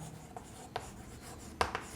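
Chalk or marker strokes on a classroom board during a chemistry lesson, a few short scratchy taps and swipes standing out over a quiet room hum.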